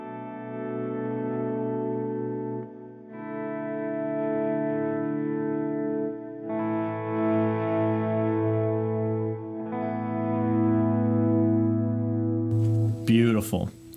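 Electric guitar playing an open A minor 7 chord with volume swells from a Dunlop volume pedal, each sustained chord fading in smoothly with chorus and echo effects, four swells in a row followed by a brief bright pluck at the end.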